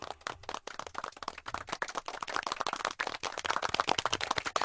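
An audience applauds at a live comedy show, a dense, continuous patter of many hands clapping at close range.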